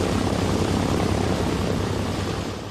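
Engines of a Consolidated Catalina flying boat drone in flight, a dense, steady roar with a low throbbing undertone, constant and close throughout, fading slightly at the end.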